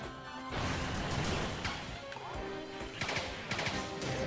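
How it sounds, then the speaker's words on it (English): Boss laser blasts and Kirby's shooting in Kirby and the Forgotten Land, a dense busy mix of crashes, bursts and rapid shots over game music, fairly quiet overall. "Yeah, those are pretty much Megalore's lasers from Return to Dreamland."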